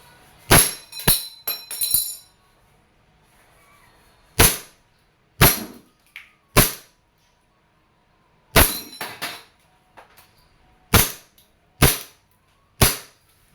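A WE M92 Black airsoft pistol fires about a dozen sharp, loud, close cracks. Some come in quick pairs and others are spaced a second or more apart, with no talk.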